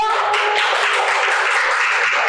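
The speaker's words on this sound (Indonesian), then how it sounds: "Boleh tepuk tangan terlebih dahulu." Clapping from an audience at a school talk show, a dense, even wash of hands heard throughout the short span with no one speaking over it.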